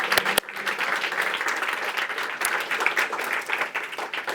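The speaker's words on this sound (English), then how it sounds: "Round of applause for Misho and Jožo and others as well." Audience applause at the Climathon Bratislava 2025 final presentations and awards, a steady dense wash of many hands clapping that fills the whole stretch, after a few sharp louder claps at the start.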